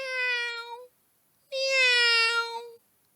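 A human voice imitates a cat meowing twice, a short drawn-out meow and then a longer one, close and clear against silence.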